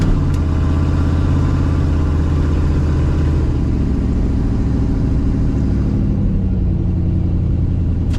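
Car engine held at high RPM while being two-footed, a loud, continuous, close droning roar with dense rumble throughout.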